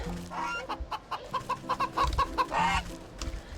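A goose in the video game Wytchwood honks and clucks in a quick run of short calls, with a noisy game background and a fairly faint level overall.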